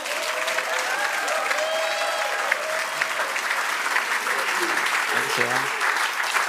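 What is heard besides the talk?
audience applause welcoming a performer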